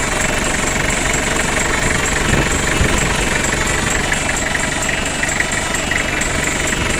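A Toyota Mighty-X pickup truck engine idles close by with a loud, steady diesel clatter and vibrating rattle that holds constant throughout, with no talking over it.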